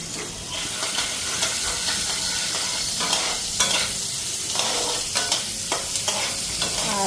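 Onions sizzle steadily in a pan while a utensil scrapes and stirs through them, with occasional sharper clicks against the metal; close, fairly loud, no voices.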